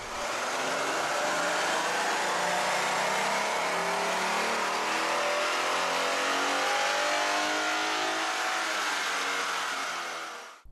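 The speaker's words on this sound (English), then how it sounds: "Let's start with the baseline dyno run." A Ford Mustang's 3.7-liter V6 roars loud and close on a dyno during a baseline run, sweeping steadily up through the revs for about ten seconds before cutting off.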